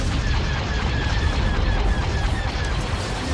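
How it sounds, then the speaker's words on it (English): Laser cannons and torpedo launchers fire in a Star Wars Empire at War space battle, a dense, steady roar of booming blasts and explosions that continues without a break. "Laser cannon, torpedo launcher. Attack that target."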